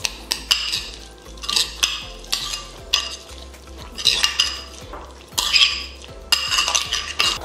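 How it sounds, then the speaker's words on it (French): Poke bowl ingredients stirred with mayonnaise in a bowl, a spoon repeatedly scraping and clinking against the sides in uneven rhythmic strokes, close and clear with no talking. "Je mélange bien le tout avec la mayonnaise."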